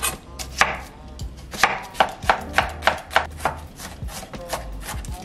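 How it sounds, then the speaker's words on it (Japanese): Half an onion is finely minced with a knife on a cutting board: about a dozen crisp, close chops in a loose, steady rhythm. "玉ねぎは半分をみじん切りにしていきます"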